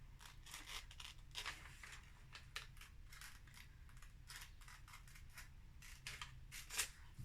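Scissors snip steadily through thin magazine paper, a run of soft, quick clicking cuts close by in a very quiet room with no voices.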